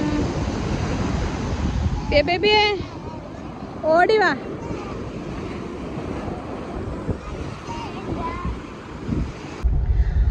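Sea waves wash and rumble at Unniyal beach near Tanur under steady wind buffeting the microphone, while people talk and a voice calls out briefly nearby.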